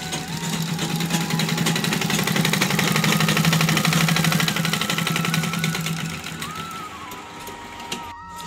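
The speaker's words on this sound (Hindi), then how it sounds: "ये हमारी लास्ट और फाइनल सिलाई" A sewing machine runs steadily as it stitches a harmonium bag, a continuous mechanical whirr with a low hum that fades out near the end.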